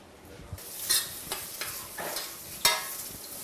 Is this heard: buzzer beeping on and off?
no